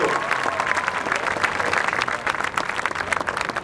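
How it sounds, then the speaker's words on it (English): Current Boeing employees applaud themselves at an evening founders celebration, a large crowd clapping in a dense, steady roar that holds strongly throughout with faint cheering mixed in. "Let's give them a round of applause for the current Boeing employees"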